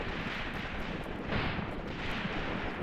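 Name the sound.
mine explosion in the video game Graviteam Tactics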